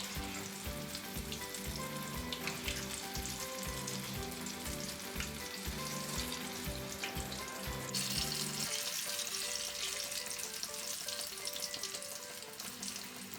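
Bajji fritters frying in hot oil, a steady close crackling sizzle with dense bubbling throughout, a brief pause in the frying texture around the middle before the sizzle continues.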